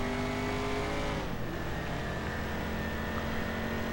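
Race car engines roar steadily in the Race Driver Grid video game, with a sustained high-pitched engine drone that shifts in pitch partway through as the car changes gear, loud and continuous with no talk.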